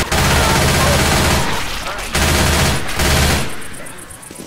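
Rapid automatic gunfire in the Left 4 Dead 2 video game, loud and sustained across several bursts with brief gaps, then fading toward the end.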